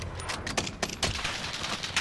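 Video game gunfire in a shooter match at a prison dock: a rapid cluster of sharp shots, loud and close, crackling in quick irregular bursts across the moment with no voices.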